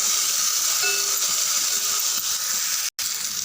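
Tomatoes and curry leaves sautéing in a pan for tomato pepper rasam: a steady, loud, close sizzle and hiss that runs throughout, with a brief cut near the end.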